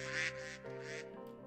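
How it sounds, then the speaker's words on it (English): Duck quacking in the video game Minecraft, a few short nasal quacks in quick succession, close and clear, with no talk over them. "It's a duck!"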